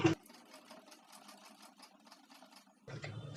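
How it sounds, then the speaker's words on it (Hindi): A sewing machine stitches the square neck corner of a nighty in a soft, rapid, even run of needle strokes that pauses briefly, then starts again more loudly, with no talk. "ये सीधा ऐसे हम सिलाई कर देंगे। सिलाई जो है इसके कॉर्नर से जाएगा।"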